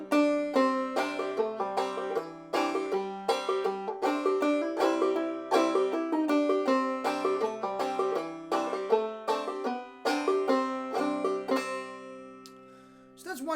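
Clawhammer banjo picking the old-time tune Fly Around at full tempo, with bright, rapidly plucked notes in a steady driving rhythm, played solo and close that ease off into a ringing final note.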